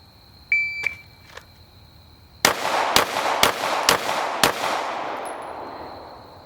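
A pistol shooting drill begins with a few electronic timer beeps, then five sharp, loud gunshots crack in a quick, slightly uneven string, each trailing into outdoor echo.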